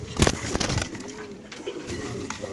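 Pigeons coo softly at a pigeon farm among cages, with low rumbling calls and some fluttering and handling noise close by.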